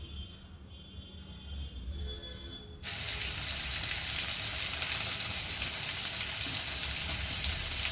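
Tomato pieces hit hot oil and sizzle loudly and steadily for an Indian vegetarian aloo dum, the frying starting abruptly after a quieter moment of kitchen noise.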